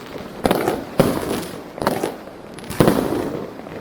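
New Year's night fireworks in Yakutsk burst in four loud, sharp booms about a second apart, each followed by crackling decay, with salutes going off nearby and no talking.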